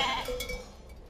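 On a family farm keeping about 500 sheep and goats, a short bleat sounds near the start, then fades into quiet farm background.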